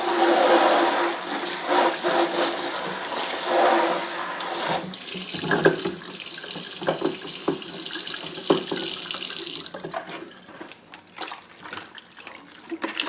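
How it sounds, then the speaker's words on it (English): Tap water runs hard into a bucket being rinsed out, a loud steady splashing gush that shifts as the bucket is moved and then turns to lighter sloshing and drips. "And now we'll rinse out the bucket."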